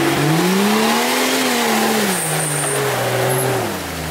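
A Jeep Cherokee revving through a water ford without a snorkel, its engine note rising and falling steadily and close by, loud throughout with no talk.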